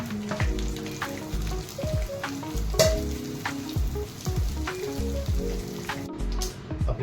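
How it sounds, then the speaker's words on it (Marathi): Cluster beans (guar) frying in oil in a pan: a constant close sizzle and crackle of hot oil, broken by regular scraping and stirring knocks of a spatula against the pan. "आता आपण गवार टाकत आहोत आणि 10 मिनिटं त्याला फ्राय करून घेतो."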